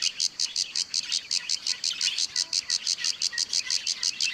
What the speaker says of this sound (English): Now couple with the sound of insects.